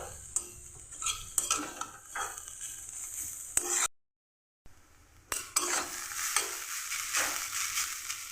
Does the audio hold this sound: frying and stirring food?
yes